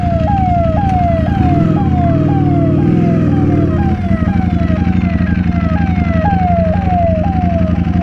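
An ambulance siren wails loud and close in a busy Siliguri market street, its rising sweep repeating steadily over a heavy engine rumble and traffic noise, with no talk.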